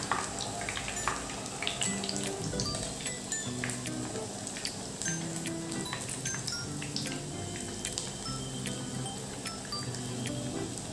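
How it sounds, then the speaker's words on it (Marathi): Sabudana vadas deep-fry in hot oil over medium heat, giving a steady bubbling sizzle with scattered crackles and pops that runs on evenly throughout, close and moderately loud, with no voices. "छान गोल्डन ब्राउन रंग येईपर्यंत आपल्याला हे वडे तळून घ्यायचे आहेत।"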